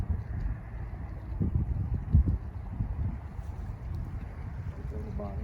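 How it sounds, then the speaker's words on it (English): Wind buffets the microphone outdoors during a warm January evening of bass fishing, a steady low rumble with gusts swelling and fading, and a voice is briefly heard under it. "That wind."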